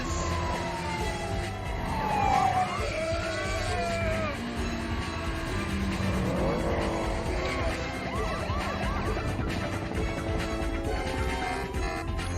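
Car chase from the film 2 Fast 2 Furious, with engines roaring and tires squealing under a dense, loud mix of music and sirens, continuous throughout.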